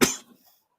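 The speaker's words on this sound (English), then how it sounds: "That cough" A single sharp cough from an adult, close and loud, decaying quickly into silence.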